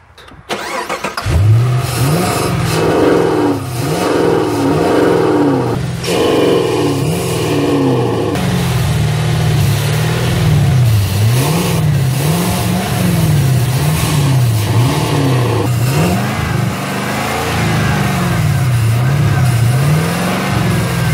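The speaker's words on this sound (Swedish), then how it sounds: "Sätta igång motorn och spruta vi in här i spjällhuset." A car engine revs repeatedly in short bursts while JLM Lubricants petrol/diesel EGR and air-intake cleaner spray is squirted into the throttle body. The revving is loud, close and continuous, rising and falling in a steady cycle with no speech.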